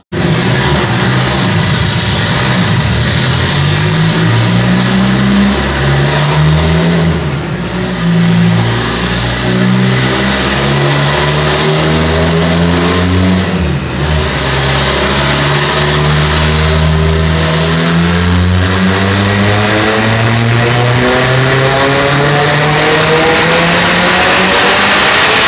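A fully forged VW Gol 2.0 turbo engine revs hard and loud close by, climbing repeatedly through the rev range with sustained roaring pulls and brief dips between them, no voices.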